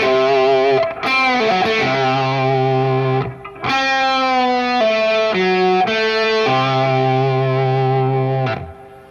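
A distorted electric guitar plays a slow blues-rock lick alone, with sustained bent notes, brief pauses and a held final note.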